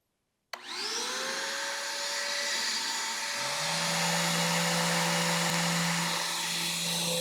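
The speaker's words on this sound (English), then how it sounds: "I would recommend this little vacuum that we have, just so that way, like I said, you guys can manage your dust" A small dust vacuum in a woodworking shop switches on and runs steadily, a loud continuous whine with a rising motor tone that settles into an even drone, no talking.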